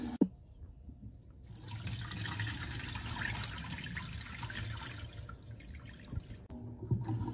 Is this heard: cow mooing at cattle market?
no